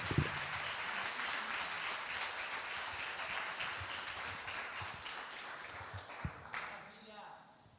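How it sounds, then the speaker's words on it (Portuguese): Sustained church congregation applause fills the space, steady and dense, thinning toward the end, with a voice speaking over it at times. "Aplauda o Senhor Jesus pela vida do Leandro."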